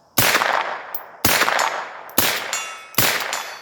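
Four loud rifle shots hit a target at 50 yards, each a sharp crack followed by a ringing, metallic tail, spaced about a second apart.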